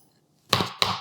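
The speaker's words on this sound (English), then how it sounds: "Cutting avocados." A chef's knife slicing avocados on a board, two crisp close chops in quick succession against a quiet background.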